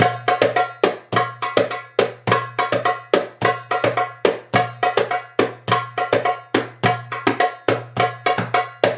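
On a darbuka, a fast, steady malfouf rhythm loops, each dum and ka hit together in sharp, ringing strokes with a low resonant boom under them, loud and close with no talking.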